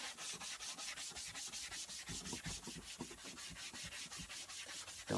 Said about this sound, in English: you can see this is a Scotch-Brite sponge, and you can hear it dragging on the material